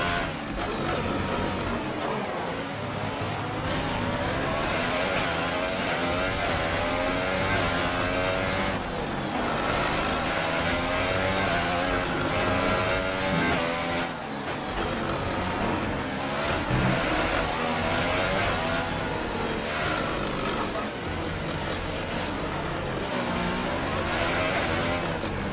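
Formula 1 car engine in the F1 2018 racing game, a steady high-pitched whine with rising and falling revs that runs throughout at a constant level, with no pauses.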